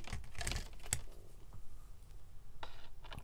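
Printed paper sheets stacked and cut to size for a junk journal pocket, giving a few crisp snips and rustling clicks, close and fairly quiet, with short pauses between cuts.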